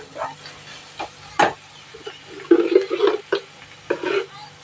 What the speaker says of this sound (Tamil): இது எல்லாத்தையும் நம்ம போட்டு இந்த பச்சை வாசனை போகிற வரைக்கும் நம்ம நல்லா வதக்கி விடலாம்